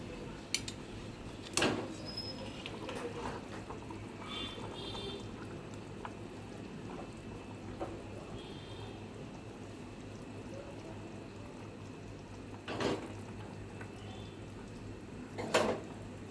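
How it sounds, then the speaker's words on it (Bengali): Pabda fish go one by one into a boiling potato and eggplant curry. A few soft splashes and plops stand out over a low, steady bubbling simmer, nearby and without speech. "ঝোলটা পুরো ফুটে গেছে, এখন আমি এখানে মাছগুলো দিয়ে দিচ্ছি"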